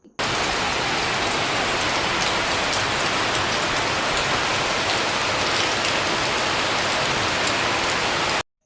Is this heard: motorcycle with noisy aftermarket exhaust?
no